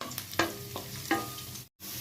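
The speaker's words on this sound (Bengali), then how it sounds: "রসুনগুলো ভাজা হয়ে গেছে" A large clove of chopped garlic fries in about three spoons of white oil. It sizzles steadily, with a few sharp stirring scrapes and a brief dropout near the end. No talk.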